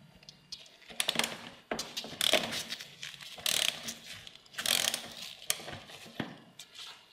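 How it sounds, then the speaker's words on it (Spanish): Ratchet clicks loosening a bolt on the chain adjuster of a KTM 1290 Super Duke R single-sided swingarm, heard as several short bursts of rapid ratcheting with brief pauses, close and fairly quiet. "lo que tenemos que hacer ahora es aflojar el tornillo que estamos viendo"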